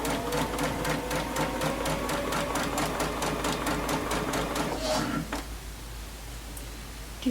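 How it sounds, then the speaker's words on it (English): A sewing machine stitches a quilt top in rapid, steady bursts of mechanical clatter, close and continuous for about five seconds before stopping and leaving a quiet room. "Since I sit here pretty silent the whole time just sewing."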